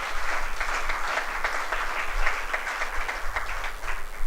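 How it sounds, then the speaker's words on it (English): Symposium audience at a theological gathering giving a round of applause, steady dense clapping from a hall at moderate level, continuing throughout without voices. "Let's give a round of applause once again and thank them"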